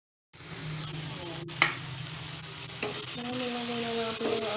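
Tomato, garlic and onion sautéing in a pan start up abruptly into a steady, close sizzle with light stirring clicks and a brief scrape, the hiss building slightly toward the end.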